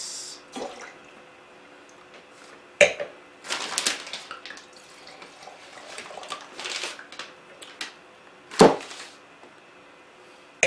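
A wine glass being rinsed with water during a tasting of GSM red blends: intermittent splashes, swishes and drips, with a few sharp glassy clinks, close and moderately loud.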